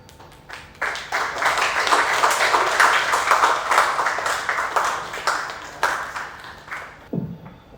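An audience at an award ceremony announcing winners for a Wari photography and story competition breaks into sustained applause, a dense wash of many hands clapping that swells and holds for several seconds before fading out.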